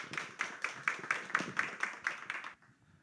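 An audience at a church book concert claps in unison, about ten evenly spaced beats, loud and close, then stops abruptly, leaving near silence.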